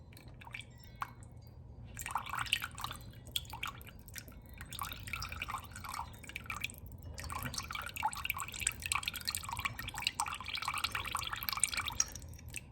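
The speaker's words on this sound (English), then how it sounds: "We're gonna drain off the juice." Juice is drained off a jar of home-canned beef stew, heard as quiet wet drips, trickles and soft squishy sounds in bursts that grow busier over time.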